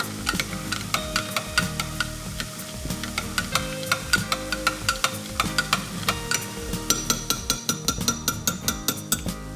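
Ground meat for sloppy joes frying in a pan, a steady sizzle under rapid, rhythmic scraping and clinking of a utensil chopping and stirring it, close and continuous.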